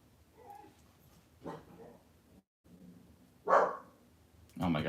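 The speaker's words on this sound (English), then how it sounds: "That is a dog barking." A few sharp dog barks spaced apart, fairly close, with quiet gaps and some low sounds between them.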